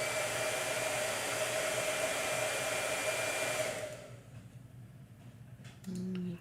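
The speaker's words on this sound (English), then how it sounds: "Blow dryer." A hair dryer blows steadily and loudly for about four seconds while drying a gouache painting, then switches off, leaving quiet room tone and a brief low hum.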